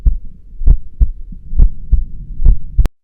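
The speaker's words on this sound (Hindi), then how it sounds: "दिल जोर जोर से धड़कने लगा" Heartbeat sound effect in a horror story, a loud and close steady thudding pulse of about six beats in three seconds, each thump deep and booming with a sharp click at the end, and no voices.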